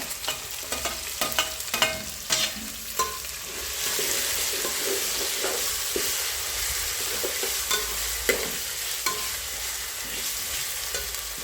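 Onion frying and being stirred in a pan with curry leaves, ginger-garlic paste and tomato for Kolhapuri kat vada: a steady close sizzle with scraping spatula strokes and clinks throughout, no talking.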